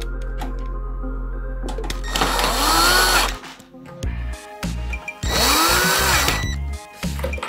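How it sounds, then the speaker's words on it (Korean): A powered screwdriver drives screws into the power supply mount of an upright PC case, giving two separate whirring bursts that each rise in pitch as a screw tightens, with quieter handling clatter between them. "강하게 다시 한번 나사를 체결해 주세요"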